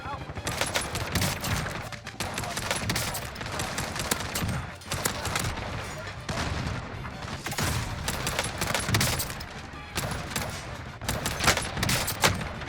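Rapid DMR rifle fire in the Call of Duty Vanguard video game, dense continuous shots with explosions and battle noise throughout, loud and busy.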